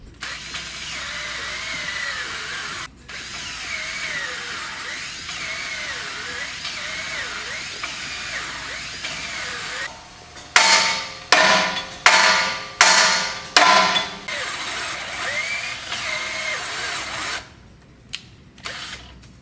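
A power drill whines continuously, then bursts into several loud, rhythmic drilling pulses, close and harsh, before stopping, while installing a 4-inch Mopar Jeep lift kit; the drill is getting hot.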